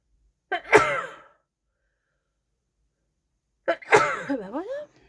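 Two close sneezes from one person a few seconds apart, each a sharp voiced burst with a short trailing vocal tail, the second followed by a brief sliding vocal sound, with silence between.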